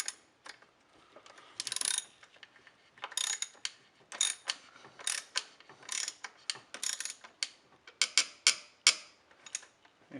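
A ratchet tightens coil pack bolts on a Ford 5.4 engine, its pawl clicking in quick bursts of rapid ticks separated by short pauses, close and crisp with no talk.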